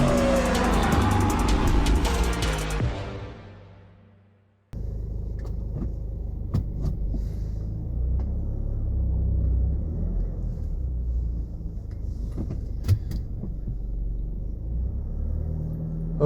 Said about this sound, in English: We're in the car today.